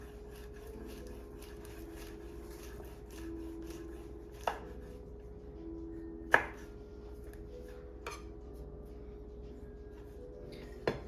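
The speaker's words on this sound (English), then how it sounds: "let's just go ahead and chop this up" A knife chops a jalapeño on a cutting board, giving a few separate sharp knocks spaced seconds apart over a steady low hum.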